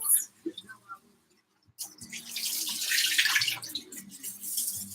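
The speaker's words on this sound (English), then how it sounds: "I'm going to rinse the rice probably about 3 times" Tap water runs steadily over rice being rinsed in a home kitchen, a broad continuous splashing hiss that starts after a near-silent pause with a few soft clinks and continues close and fairly loud to the end.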